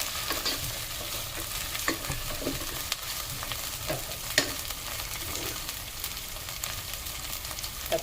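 Garlic ginger paste frying and being stirred in a pan for prawn biryani, a steady close sizzle with soft scraping stir strokes throughout and no voices.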